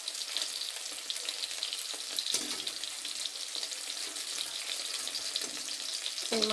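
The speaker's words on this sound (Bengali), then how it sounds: "এই যে মাছ ভাজা হয়ে গেছে।" Fish frying in a pan of oil in a home kitchen, giving a steady, close, crackling sizzle that runs throughout with no voices.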